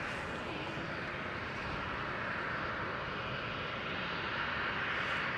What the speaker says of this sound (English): KLM 737 is starting up